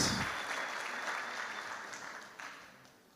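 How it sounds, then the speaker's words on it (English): An audience claps at a political consultation meeting, a short burst of applause that starts loud and thins out over about three seconds. "clap your hands for this very important mandate"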